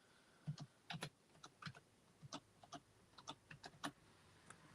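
Keys on a computer keyboard are tapped in short irregular bursts, quiet, close clicks with brief pauses between clusters and no talking.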